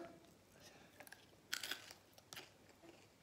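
Crunching on a salty snack, close to the mic, with a few sharp crisp bites and softer chewing crackles over a quiet background.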